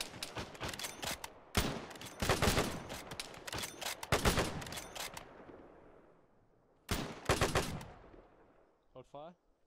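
Rifle fire in Arma 3 during a pre-WW2 Palestine mission, with dense bursts of close, loud shots in volleys, a pause, another sharp burst, then fading tail and a brief voice at the end.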